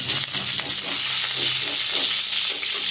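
Mustard seeds sizzle and crackle in a tablespoon of hot oil in a pan, a steady close frying hiss with faint popping and no talk, for a Tulu Nadu style uppad pachchir sukka.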